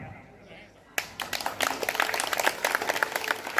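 Audience clapping bursts out at a religious celebration for a Saraswati idol worship festival, a dense patter of many hands following a quiet pause and continuing steadily, fairly close, with faint talk mixed in.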